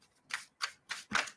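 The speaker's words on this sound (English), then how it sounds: "All right, keep on shuffling." Tarot cards being shuffled by hand in four quick, crisp riffling bursts about a third of a second apart, close and fairly quiet, with no voices.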